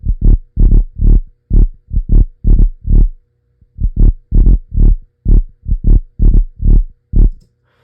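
A soloed synth bass patch built in Serum plays alone in short, punchy, deep notes, a loud rhythmic pattern with brief gaps and a pause midway, no voices.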